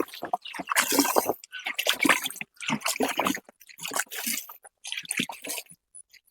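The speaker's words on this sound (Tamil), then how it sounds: "தண்ணி லைட்டாக சுற்றி ஊற்றுங்க." Water poured lightly around a newly planted tissue-culture banana plant on a farm, close splashing and trickling in irregular bursts with brief pauses between pours.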